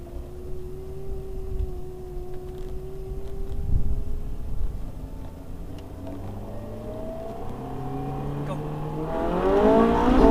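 Ferrari 458 Italia accelerating hard on a straight with manual gear changes, engine pitch climbing steadily then dropping at a shift and rising again to a loud roar near the end.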